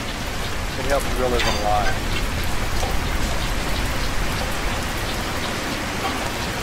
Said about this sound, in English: Kind of nice to hear the rain anyway.